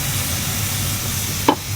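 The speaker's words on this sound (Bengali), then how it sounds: "তো গাইস এবার এর মধ্যে জল দিয়ে দিচ্ছি" Water hits hot spiced oil with potatoes in a pan, giving a steady close sizzle with a brief, sharper hissing burst near the end.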